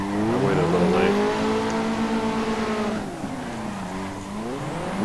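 Sim-racing car drifting in Assetto Corsa, a steady engine drone with sweeping pitch changes as the revs rise and fall, a tire squeal layered over it, loud and continuous with no talking.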